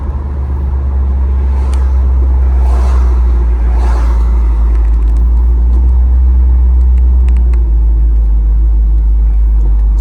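A 1968 Pontiac Firebird with a swapped-in 403 engine drives along a road, its loud, steady low engine drone and rumble continuing throughout with faint road noise, no talking.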